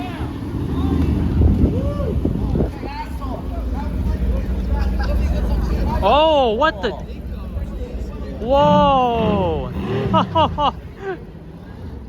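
A supercar engine revs loudly on a city street during Formula 1 weekend in Montreal, with rising and falling sweeps against steady low traffic rumble while people exclaim over it.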